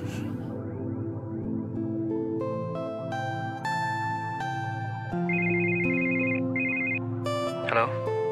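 Phone ringtone playing a melodic sequence of clear electronic tones, steady and fairly loud, with a short burst of other sound near the end.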